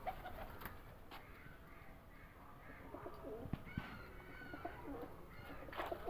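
Lal Pari and Galwa breed pigeons cooing at a loft in Lahore, soft repeated coos layered over a steady murmur of other birds, fairly faint and without talk.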